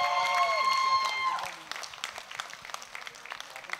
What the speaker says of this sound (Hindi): तो मैं आज ताली होनी चाहिए।